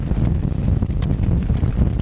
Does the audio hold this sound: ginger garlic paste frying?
no